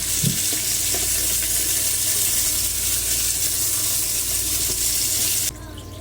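Water pours steadily into a pot of sautéed chicken, garlic and aromatics for tinola soup, a continuous loud rushing splash that stops abruptly near the end, with no voices.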